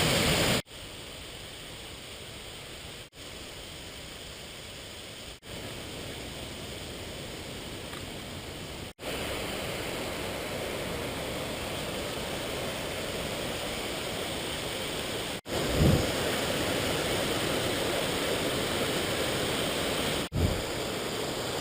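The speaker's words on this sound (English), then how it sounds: "Got that river now coming from this side" Steady broadband rush of a river flowing near waterfalls by an old gold mine, continuous and enveloping with no voices, the flow growing louder in stages as the listening spot shifts closer.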